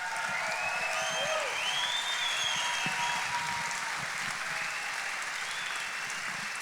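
Audience applause at a football chalk talk event with Brett Favre, a sustained, even wash of clapping heard from within the crowd, with faint whoops and cheers rising over it.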